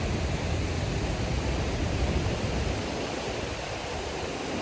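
Fast-flowing stream water rushes near a hidden waterfall in Kumrat, a steady, loud, broadband roar with no pauses, continuing unchanged from start to finish.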